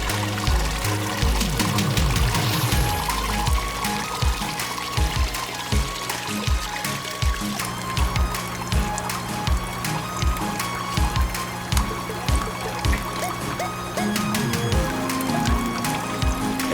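Water flows and splashes into an aquaponics sump, a steady trickle broken by rhythmic dripping plops that repeat close by throughout.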